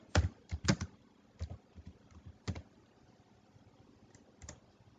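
Typing on a computer keyboard: a few quick, faint key clicks in short clusters with gaps between them, heard close in a quiet room.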